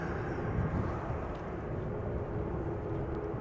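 Pegasus Airbus A321neo airliner in the A100 Flypigs special livery, arriving at Amsterdam Schiphol from Istanbul: a steady, broad jet roar that holds at an even level throughout, with no talk.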